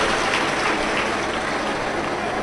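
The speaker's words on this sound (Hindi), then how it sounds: "एक बार जोरदार ताली बजाकर उनका स्वागत" Dense, sustained applause from a large audience at a Shiv Mahapuran religious discourse, welcoming a guest with a continuous wash of clapping throughout.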